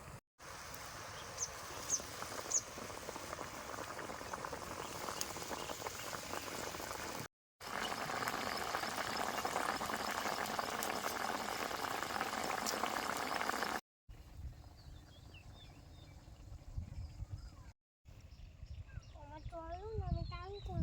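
Puti fish curry seasoned with mustard paste, cooked village style, bubbling in a pot: a steady, dense hiss of boiling liquid that breaks off partway through, leaving quieter mixed sounds and a voice.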